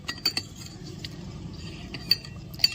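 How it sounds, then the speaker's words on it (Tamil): A spoon stirs milk and sugar in a tiny miniature cooking pan for jigarthanda, giving faint scraping with a few sharp metallic clinks scattered through a quiet background. "நான் இங்க பாலை சக்கரை போட்டு இந்த மாதிரி நல்லா கிண்டிக்கிட்டே"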